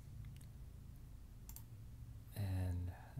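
Soft mouse clicks while editing in DaVinci Resolve, faint isolated taps over a low room hum, followed by a brief louder burst of sound near the end.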